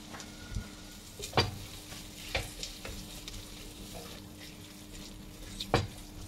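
Chopped Ajwa dates are stirred through a sizzling pan with a quiet, constant frying hiss. A few sharp scrapes and clinks of a utensil against the pan stand out at irregular moments, close and faint overall.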